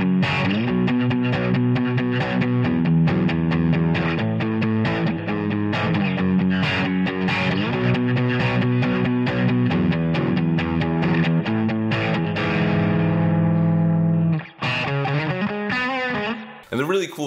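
Electric guitar played through a super-sized Boss Katana amp on its brown setting, the heaviest gain mode, giving loud, continuous, thickly distorted riffs and sustained chords with a brief break near the end, with no other sounds over it.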